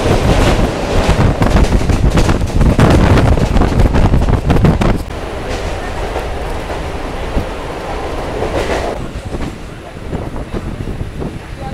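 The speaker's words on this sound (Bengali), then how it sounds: "আমাদের ট্রেন একদম নির্ধারিত সময়ে ছেড়ে দিল শিয়ালদা স্টেশন থেকে।" A Kolkata suburban local train pulls out of Sealdah station, its loud rattling rumble and wind roar filling the first few seconds before settling into a steadier, quieter clatter of wheels on track.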